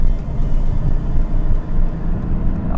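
Interior drone of a warm Alfa Romeo/Fiat diesel car accelerating onto an expressway, a steady low engine and road rumble with no talk, holding a fairly constant loudness throughout.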